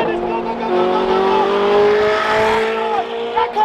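A race car accelerates hard nearby, its engine note rising through a couple of gear changes with a faint tire squeal. People talk over the engine noise.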